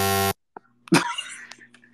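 A loud, flat buzzer tone from a soundboard blares for about a third of a second at the start, then cuts to near silence before scattered faint clicks and a brief voice-like burst.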